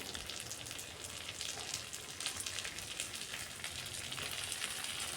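Marinated chicken frying in a pan with already-browned onions, a soft even hiss and sizzle, fairly faint and continuous, with no talking.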